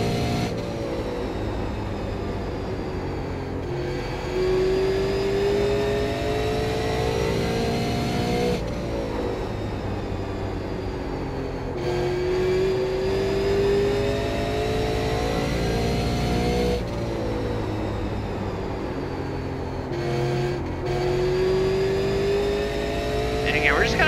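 A super late model race car in iRacing drives laps with an engine that revs and winds up repeatedly through each straight and eases off into the corners, loud and continuous throughout.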